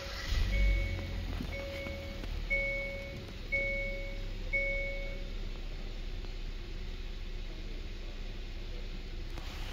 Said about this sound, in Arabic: أسمعكم الآن صوت تشغيل الهيونداي ألانترا، طبعا تشغيل السيارة عن طريق هذا الزر